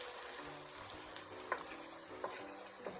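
Masala with onions and asafoetida sizzles softly in hot ghee and oil, a faint continuous frying hiss broken by a few light stirring knocks.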